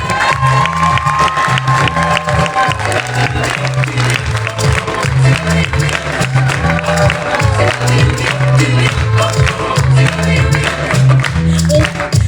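A theatre audience at the Gaîté Montparnasse in Paris claps and cheers loudly over pounding music with a heavy rhythmic bass line, a dense, steady mass of applause and shouts lasting throughout.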